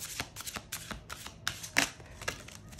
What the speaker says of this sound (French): Je vais prendre quelques cartes de mon nouvel oracle Amour et Psyché que j'adore.